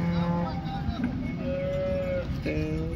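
Cows at the Modnimb livestock market give a drawn-out low moo in the middle, with a shorter call near the end, over busy market murmur and people talking.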